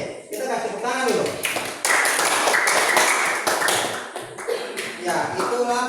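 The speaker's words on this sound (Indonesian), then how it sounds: "Oke, kita kasih tepuk tangan dulu." Classroom audience clapping after a student group presentation, a dense burst of hand claps lasting several seconds, loud and close, with voices mixed in.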